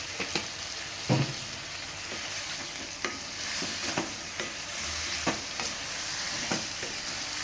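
Spices and vegetables sautéing in oil in a pan for vegetable sambar, a steady soft sizzle with a few stirring clanks and scrapes.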